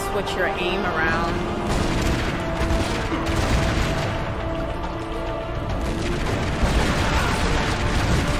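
A big gun firing in Tomb Raider Legend, heard as dense, continuous rapid gunfire and booming shots at steady loudness throughout, with game noise and some speech mixed in.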